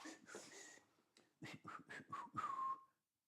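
A short burst of whistled notes, a few quick chirpy tones rising into a sustained pitch at the end, fairly close, with a brief quiet gap partway through.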